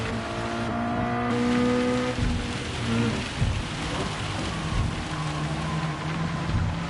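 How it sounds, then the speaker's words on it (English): Steady rain hisses over race cars rumbling in Gran Turismo 7, with engine tones shifting and thuds of thunder-like low bursts breaking through the continuous downpour. "it's raining all right."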